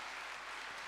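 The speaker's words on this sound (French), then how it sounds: "Acclame fort pour le Seigneur." A church congregation at a bilingual Sunday service claps together in a dense, continuous, fairly distant burst of applause that holds steady throughout.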